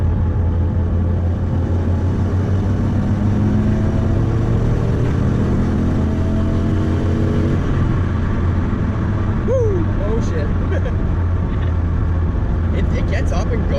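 A turbocharged car pulls hard in fourth gear, its engine drone loud and steady from inside the cabin and rising in pitch through a long acceleration, with a brief voice near the end.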